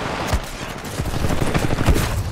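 Loud, rapid bursts of automatic gunfire from the Apex Legends video game, with dense overlapping shots running throughout and no speech.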